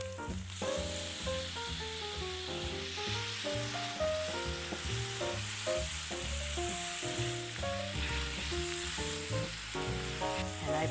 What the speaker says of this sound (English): to stir fry the chopped onion. Stir fry until fragrant.